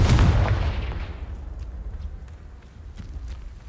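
A Confringo spell blast in the video game Hogwarts Legacy opens with a loud, booming explosion that decays over about a second into a low rumble, followed by faint footstep-like taps.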